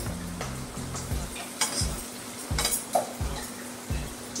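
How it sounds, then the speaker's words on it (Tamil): Meal maker soya chunks sautéed in oil in a pan with roasted cumin powder, a steady sizzle punctuated by repeated scraping and clinking strokes of a spoon against the pan, close up. "இப்போ நம்ம இதை நல்லா எண்ணெயில வதக்கிட்டு"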